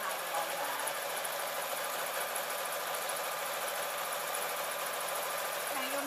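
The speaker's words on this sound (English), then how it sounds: "I'm sewing one panel on, and then I'm going to sew the panel on there" A sewing machine runs steadily as it stitches a panel onto a tote bag, a fast continuous mechanical whir with a faint rhythmic chatter, fairly quiet and without pause.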